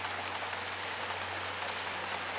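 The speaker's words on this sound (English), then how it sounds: "I don't mind working in a rain like this." Steady rain falls outside a home garden in May, a dense even hiss of drops hitting surfaces that holds at the same level throughout with no voices.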